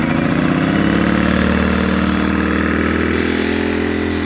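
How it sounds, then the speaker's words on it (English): A Sportsman GEN1000i inverter generator runs steadily and loud right beside the recorder, its small engine droning with an even, rough hum that stays constant throughout without any talk. "I'm going to set the phone on top of the generator and pull it"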